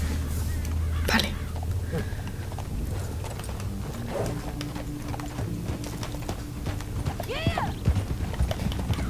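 Horse hooves clip-clop steadily in Red Dead Redemption II, a continuous mid-distance gait under game ambience, with brief speech and a whinny-like sweep near the end.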